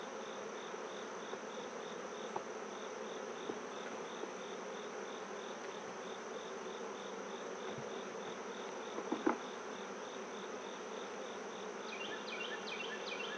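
Honeybees hum in a soft, continuous drone around an open hive during an inspection, with occasional faint clicks and knocks of the frames handled nearby.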